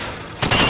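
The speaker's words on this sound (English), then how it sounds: "Now shoot at the targets while firing from the hip." Gunfire from a rifle fired from the hip at targets in Call of Duty 4: Modern Warfare, a loud burst of rapid shots cutting in abruptly after a quiet lead-in, close and dense, with no talk.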